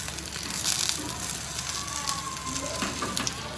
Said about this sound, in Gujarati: ભીંડાનું શાક બનાવ્યું છે, મરચાં તળી વાળ્યા છે.